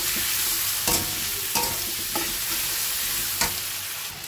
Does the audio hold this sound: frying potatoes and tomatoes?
yes